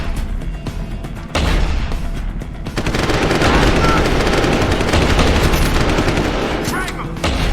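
Sustained automatic gunfire from Deus Ex: Human Revolution, loud and dense bursts rattling almost continuously, with shouted voices mixed underneath.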